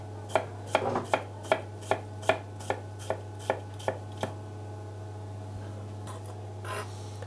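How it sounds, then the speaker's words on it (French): A knife finely chops spring onion, bulb and stem, on a board: about ten crisp, evenly spaced cuts, close and distinct, followed by a pause and a softer brush of movement, with no talk. "Ensuite, nous allons nous attaquer à l'oignon nouveau. Donc, ciselé très fin."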